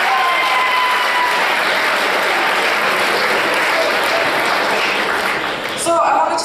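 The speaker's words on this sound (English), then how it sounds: "Let's hear another round of applause for everyone else who already did something." Talent show audience breaks into a long, steady round of applause with some cheering, loud and dense throughout, before a voice comes in near the end.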